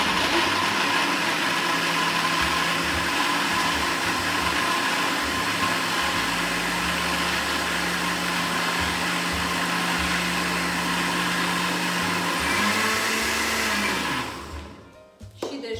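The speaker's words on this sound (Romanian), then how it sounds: "Stați să punem căpăcelul de la blender și să intrăm în acțiune." A blender whirs loudly and continuously at close range, a steady motor drone with a high-pitched whine that shifts slightly before cutting off at the end.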